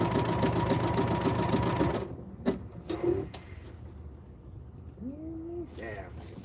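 A sewing machine stitches wrestling tights in a fast, steady mechanical chatter for about two seconds, then stops, leaving a few clunks and faint handling noises before a short squeaky sound near the end.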